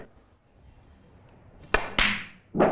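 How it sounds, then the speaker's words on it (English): A sharp, close click of a snooker cue hitting the cue ball, quickly followed by a second knock and a louder clack in an otherwise quiet room. "So we're going to bully the cue ball."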